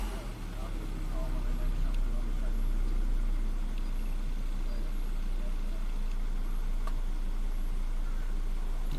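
A Ford or Volvo car engine idling, a steady low rumble that holds even and close after a brief rise in the first second, with talking over it.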